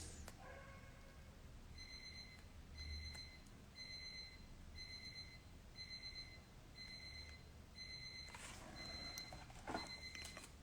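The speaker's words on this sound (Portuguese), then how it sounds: "Tá tocando um alarme aqui, gente" An alarm beeps in a steady repeating pattern of short, evenly spaced electronic tones, faint and somewhat distant over a low background hum, continuing for several seconds with no talking.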